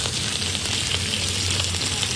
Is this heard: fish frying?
yes